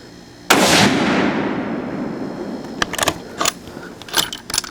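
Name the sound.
6.5 Creedmoor rifle gunshots at target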